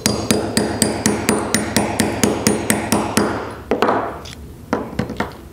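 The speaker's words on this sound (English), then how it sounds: "Put the ring over the top, and we'll go ahead and set the grommet." A hammer striking a sizing die to set a grommet in leather for a Morris rocking chair backrest cushion, a steady run of loud, ringing metallic blows at an even pace, slowing into a few scattered hits at the end.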